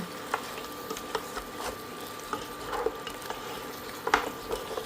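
Beef sinigang seasoned with fish sauce stirred in a pot, soft clinks and scrapes of a utensil against the pot at irregular intervals over a faint simmer, no talking.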